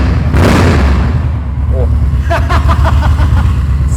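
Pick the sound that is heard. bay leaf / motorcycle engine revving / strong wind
motorcycle engine revving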